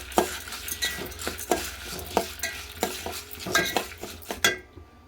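Dried red chillies broken in two frying in a pan for curry leaf powder, with a soft sizzle under repeated sharp clinks and scrapes of a spoon stirring against the metal, close by.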